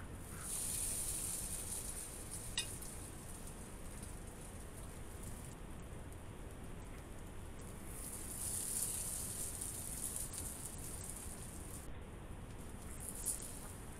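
Breaded crab cakes sizzling in a saute pan, a soft, steady frying hiss and crackle that runs throughout, faint and without speech.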